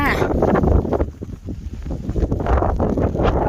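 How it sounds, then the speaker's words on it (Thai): Wind buffets a microphone outdoors in rural countryside, gusty roaring bursts that rise and fall, with people talking underneath. "ลม"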